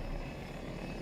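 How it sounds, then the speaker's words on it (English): Helicopter rotor thrum from a multiplayer shooter video game, a brief faint steady drone with no talk over it. "That's a helicopter."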